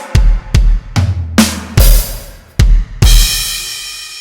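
A drum fill on a new kit is played slowly, one stroke at a time: separate loud snare and kick hits with some floor tom, ending in a crash cymbal that rings on.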